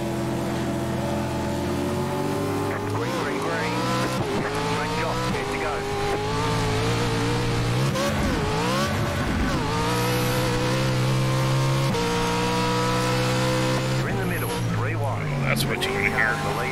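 A Pro 4 offroad truck in iRacing, on the Crandon short course, revs loudly with rising and falling engine pitch through gear changes and acceleration, continuous for the whole stretch, while someone talks over it.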